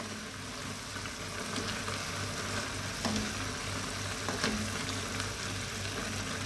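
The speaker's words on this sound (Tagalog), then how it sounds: "Haluin lang natin." Water spinach cooking as adobong kangkong in a pan is stirred, giving a steady soft sizzle with occasional scrapes and clinks of the spoon against the pan, close and continuous with no talking.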